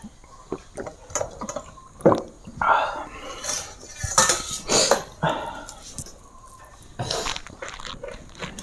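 Dishes and cutlery clink and scrape steadily through a home meal of egg omelette, dal and mixed vegetables, with chewing and small clatters but almost no talk.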